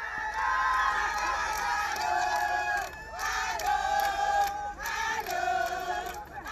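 A crowd of Ivorians at the consulate general in Jeddah cheers and shouts in a festive mood, a dense, loud wash of voices that keeps going, rising and falling in waves.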